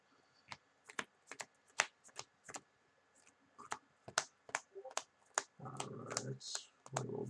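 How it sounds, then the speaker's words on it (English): Trading cards being power shuffled for a Digimon card game, a rapid series of sharp crisp riffling snaps in bursts, close and fairly loud, with muffled talk and rustling near the end. "Right, I'm gonna power shuffle real quick."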